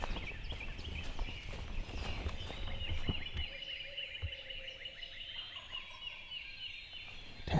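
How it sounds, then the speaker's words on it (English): Wild turkeys gobble in a Tennessee woodland, several distant rattling calls repeating across the clip over a low rumbling background, faint and far off. "Turkeys gobbling everywhere."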